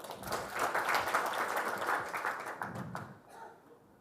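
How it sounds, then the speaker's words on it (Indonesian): Audience applause at a debate or speech event, a dense crowd clapping steadily and fairly close for about three seconds before thinning and fading out near the end. "tepuk tangan untuk kalian"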